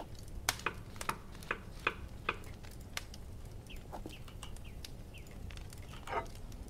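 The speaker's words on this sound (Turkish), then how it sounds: "Patatesi doğrayacağız." Potatoes being chopped in the cooking game Kebab Chefs, a run of sharp knife taps in an uneven rhythm, then softer kitchen clatter over a low background hum.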